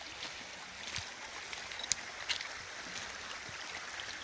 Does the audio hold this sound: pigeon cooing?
no